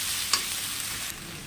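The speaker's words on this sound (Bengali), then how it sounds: "পেঁয়াজটাকে লাল লাল করে ভাজবো" Onions frying over a low flame in a village-style kitchen, a steady close sizzle broken by a sharp spoon clink and light scraping as they are stirred.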